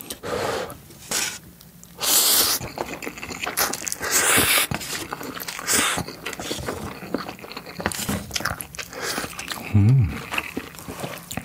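Someone eats a very spicy cup ramen with cheese up close, with wet slurps, bites and chewing coming in bursts between quiet gaps, and a brief voice near the end.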